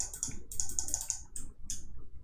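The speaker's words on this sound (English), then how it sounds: "My mouse is really noisy." Noisy computer mouse clicking during digital modelling work, a rapid irregular run of sharp, close clicks with brief pauses between bursts, moderately loud over a faint room hum.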